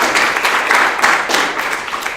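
A room audience at a student game-development club meeting gives a round of applause for a visiting alumni guest speaker, steady dense clapping close by that swells slightly midway and carries on without any talking.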